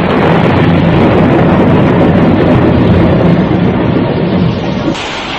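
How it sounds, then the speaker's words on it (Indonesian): Heavy rain and rumbling thunder used as a radio drama sound effect, a loud, dense, unbroken roar that holds steady and eases slightly at the very end. "Hujan yang turun gemersak seolah barisan prajurit segelar sepapan. Dan ledakan petir seolah panglimanya yang mempunyai kemampuan kanuragan yang sangat tinggi."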